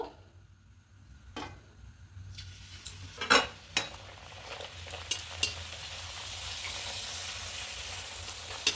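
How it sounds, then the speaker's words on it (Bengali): Heart-shaped luchi fry in oil, starting with a faint bubbling and a few sharp utensil clinks and scrapes, then settling into a steadier, gradually fuller sizzle. "এইভাবে সবগুলো ভেজে নেব"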